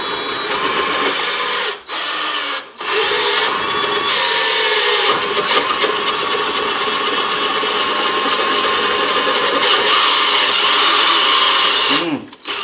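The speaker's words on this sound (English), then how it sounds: "We're going to drill down through this." A power drill bores down through an old cast-iron meat grinder, a loud sustained grinding whine that runs almost continuously for about twelve seconds, broken only by a few brief pauses where the bit stops.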